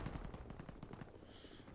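Machine-gun and rifle fire in the World War II strategy game Company of Heroes during an attack on Carpiquet airfield near Caen, with rapid repeated bursts at moderate level and a sharp crack near the end.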